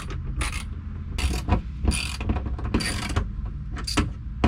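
Ratchet wrench unbolting the sunroof bolts on an Acura Integra, heard as repeated bursts of clicking pawl strokes in a close, enclosed car interior, with no talk.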